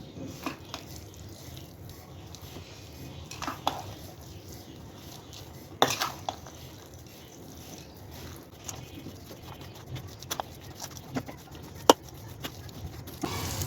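Spiced pork sausage meat being mixed, first with a spoon and then by hand, giving soft squishy, patting sounds with occasional clinks of a utensil against a bowl, fairly quiet and close throughout.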